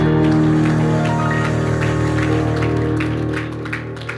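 A church congregation claps over loud, sustained keyboard music, with scattered claps fading slightly toward the end.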